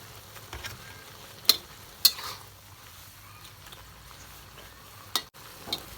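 Wilted tomatoes stir-frying in a pan with Saori sauce added, a soft steady sizzle under a few sharp clicks of a spatula scraping the pan.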